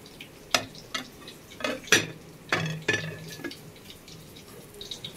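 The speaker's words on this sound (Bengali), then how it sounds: "এবার একটা থালা দিয়ে ঢেকে দেবো, এটাকে ঢেকে রাখবো।" A metal plate set over a bowl in a home kitchen, a series of sharp clinks and light clatters, several distinct taps spaced irregularly, close and fairly quiet against a soft background.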